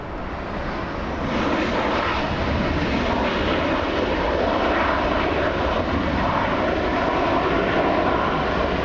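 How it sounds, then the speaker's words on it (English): An Alaska Airlines Boeing 737 jet landing at LAX, flying in from Seattle as flight 1048: a loud, steady engine roar that swells after the first second and holds, with no voices. "(737) Alaska Airlines coming in."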